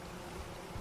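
Steady, dense buzzing of bees in modded Minecraft, a continuous noisy drone with no pauses, close and even in level, without speech.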